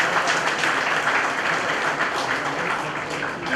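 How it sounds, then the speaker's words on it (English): A conference audience applauds with dense, steady clapping that holds for a few seconds at moderate volume, at an ICAI MSME conclave in Ballari, India. "Just give us a big round of applause."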